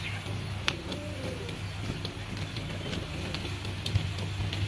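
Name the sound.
birds in a vegetable garden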